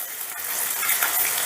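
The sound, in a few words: cabbage frying on high heat for vegetarian biryani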